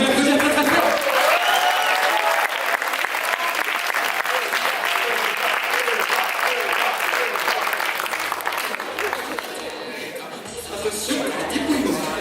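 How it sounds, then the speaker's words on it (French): Vigorous, continuous audience applause at a student's show, dense and close, with some cheering voices mixed in and tapering slightly toward the end. "Vous voulez applaudir très très fort?"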